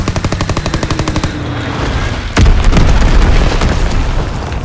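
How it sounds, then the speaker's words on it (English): Incendiary bombs from a low-altitude bomber in Call of Duty WWII: rapid rhythmic machine-gun bursts, then a loud close explosion that rolls into sustained roaring fire and rumble. "Dropping incendiary. Enemy bomb incoming."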